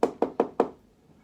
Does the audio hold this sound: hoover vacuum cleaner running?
no